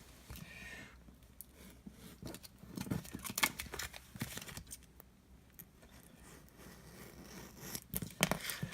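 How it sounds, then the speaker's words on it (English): Scissors trim through vinyl backing paper and transfer paper, giving quiet, close snips with light papery rustling and crinkling in an otherwise silent room. "you can trim both the backing paper and the transfer paper once"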